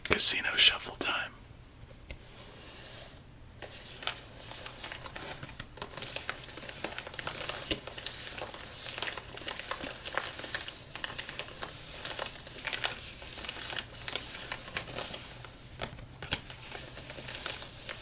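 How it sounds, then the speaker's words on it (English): Playing cards riffled in a casino-style shuffle during a solitaire game, a run of soft crisp crackling and papery patter close up, steady over several seconds with quiet whispering mixed in. "Casino shuffle time."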